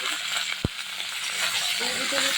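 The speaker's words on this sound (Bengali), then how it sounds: "আমি এবার দিয়ে দিচ্ছি সবজি যে কেটে ধুয়ে রেখে দিয়েছিলাম, সবজি দিয়ে দিচ্ছি" Cut, washed vegetables tipped into a pan of hot oil with reddened tempering spices for a prawn and Malabar spinach dish, giving a steady, close frying sizzle with a single sharp clatter early on.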